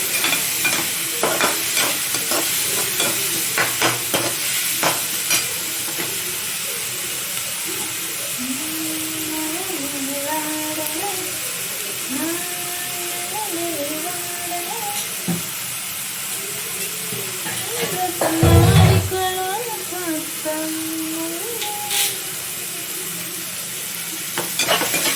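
Food sautés in a pan with a continuous loud sizzle and occasional stirring scrapes, a thin melodic tone wandering faintly underneath and a brief thump midway.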